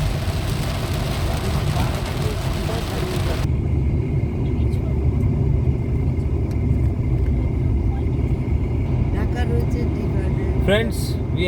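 A car travels the road from Siliguri toward Darjeeling, its engine and road roar loud and constant throughout, with a steady low rumble and wind noise inside the cabin.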